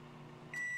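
A faint microwave oven hum runs steadily while popcorn cooks, then a single high electronic beep starts near the end and holds.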